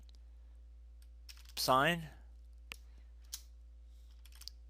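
A few sparse keystrokes click on an HP EliteBook laptop keyboard, short crisp taps spaced apart, following a brief spoken word in a quiet room.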